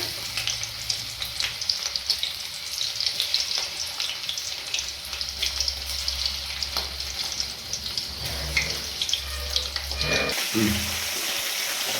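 Prawns frying in hot oil, one piece after another, give a steady, fairly close sizzle that runs the whole time and swells with bursts of crackle toward the end.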